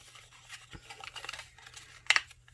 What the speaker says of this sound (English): then create a little slice there, and then I'm going to go ahead and be able to cut my piece out